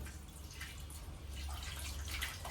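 Ragi (finger millet) grains being washed in water in a container, with soft close sloshing and dripping under a low steady hum.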